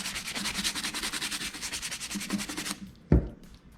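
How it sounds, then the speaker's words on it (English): A golf club scrubbed with an oil-dipped brush to lift off heavy dirt: rapid, rhythmic back-and-forth scrubbing strokes close up, stopping abruptly before a single knock as the club is set down. "dip this in that, and you just kind of scrub back and forth obviously and just get the heavy stuff off"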